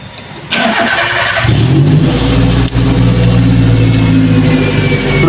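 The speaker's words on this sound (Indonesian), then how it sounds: "Kita hidupkan mesin." A car engine cranks briefly and catches, then settles into a steady, loud idle with a slight dip midway, recorded up close during a brake and booster check.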